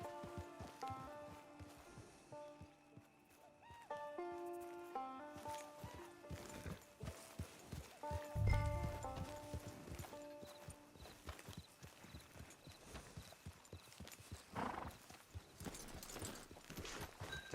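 Horse hooves clip-clop at a steady walking pace in Red Dead Redemption 2 Online under a soft melodic music bed, with a faint whinny and a low thump midway.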